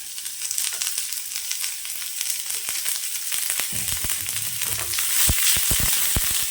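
Small shallots sizzle and crackle in hot oil for a dry fish curry, a steady close hiss broken by a few louder pops and stirring scrapes near the end.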